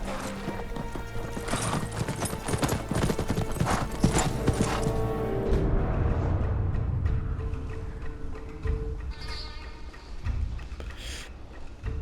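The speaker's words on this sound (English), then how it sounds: "This horse will be with you your entire journey" Horse galloping in the video game Ghost of Tsushima, rapid rhythmic hoofbeats pounding steadily and loudly up close, with neighs and game ambience mixed in before the pace eases toward the end.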